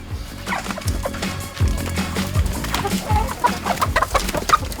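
Hens on a French farm flock of about a hundred birds, clucking repeatedly at close range in an uneven, busy rhythm, with occasional louder squawks rising over the steady chatter.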